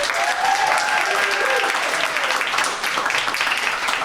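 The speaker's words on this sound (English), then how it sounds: "Applaud the poets." An audience at a spoken word poetry slam in a Melbourne library claps for the poets, a dense, steady round of applause from a crowd that holds its level throughout.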